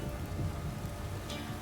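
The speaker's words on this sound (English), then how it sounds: "This downpour's a bastard," Heavy rain pours down in The Witcher 3, a faint, continuous wash of dense hiss that holds steady throughout, with no talking over it.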